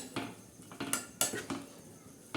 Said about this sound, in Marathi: असं हे चांगले असे हलवून घ्यायचे